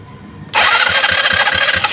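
An engine cranks and catches about half a second in, then roars into a loud, steady running note with a rhythmic low pulse, close by and with no talk over it.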